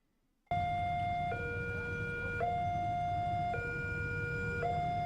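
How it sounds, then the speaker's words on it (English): A video game train horn sounding like a sad cartoon ambulance starts abruptly after a brief silence, then alternates between two steady tones in a slow, even two-note wail, loud and continuous to the end. "Now this just sounds like a very sad ambulance in a cartoon"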